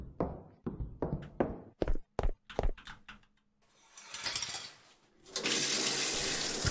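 Water runs from a shower in a sleep paralysis horror video game, opening with a series of clanking knocks from the fixtures before a steady hissing rush of water sets in and grows louder toward the end.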